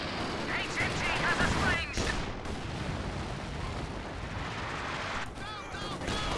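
Mortar and artillery fire in Company of Heroes 2 on a winter map, dense rumbling blasts and shots in a continuous battle din, with sharper bursts near the start and end.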